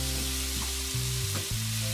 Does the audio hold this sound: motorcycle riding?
no